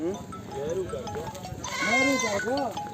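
Several goats, among them a pink-eared doe, bleat repeatedly at a goat market, their wavering cries overlapping with someone talking nearby.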